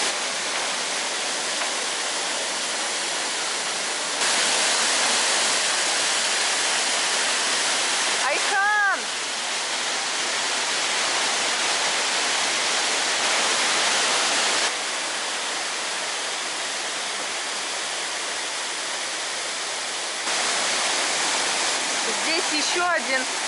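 A small waterfall in Sapadere Canyon near Alanya, Turkey, pours steadily, a continuous broad rushing splash that swells and eases slightly, close and loud, with no voices over it.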